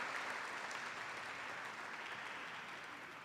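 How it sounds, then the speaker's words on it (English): A benefit luncheon audience applauds elected officials, a steady, dense patter of clapping at moderate distance that holds evenly and fades slightly toward the end, with no talking over it. "Let's give them a round of applause,"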